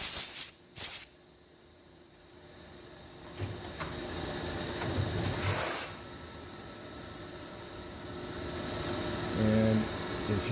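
Compressed air blasting metal chips off a repaired motor shaft, a couple of short sharp hissing bursts at the start and another mid-way, with quiet workshop hum and faint clatter between.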